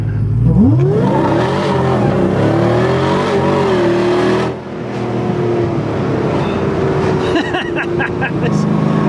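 A supercharged V8 Mitsubishi Pajero Evolution accelerating hard nearby, its engine note rising steeply then holding a loud roaring drone, a brief dip midway before revving on, with whine over the top.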